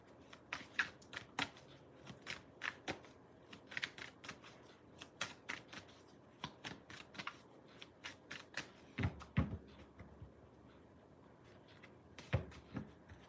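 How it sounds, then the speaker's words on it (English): Tarot cards shuffled and drawn by hand, a long run of close, crisp riffles, flicks and slaps in uneven bursts, fairly quiet with no talk. "So let's pull 3 cards and see where that takes us"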